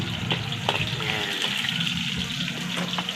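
Chopped onions sauté in a hot pan of oil for a chicken curry, giving a steady, close, broadband sizzle and hiss that holds evenly from start to end.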